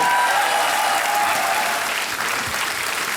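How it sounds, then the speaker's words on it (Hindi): Studio audience applause on the KBC quiz show after a contestant wins a prize, a dense, steady wash of clapping filling the whole stretch at close, even loudness with no talk over it. "तालियां बज जाए इनके लिए"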